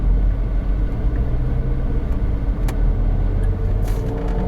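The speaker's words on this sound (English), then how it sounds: "I have to physically give it real throttle, like I'm actually pushing throttle," A Dodge Charger with a severe shaking fault sits stopped while its engine is held under throttle, a deep steady rumbling drone up close with little change in pitch.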